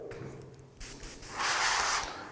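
Green spray paint hisses from a can onto a Boba Fett helmet in a steady, close burst that grows louder and more continuous toward the end, with short bursts before it.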